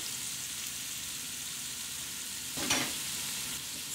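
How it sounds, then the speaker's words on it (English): Vegetables sauté in oil in a pan while braised short ribs are prepared, giving a steady low sizzle throughout with one brief louder burst of stirring or spattering near the end. "Going to make sure it gets a good coat of oil, and then I'm going to let it saute for a couple minutes."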